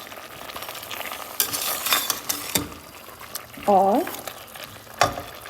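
Potatoes and green peas are stirred in a cooking pan, with scraping stir strokes over a low sizzle. A few sharper clinks and knocks come through, and someone speaks briefly.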